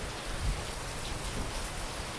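Dense, steady rain pours in a continuous hiss, loud and close, with no talking.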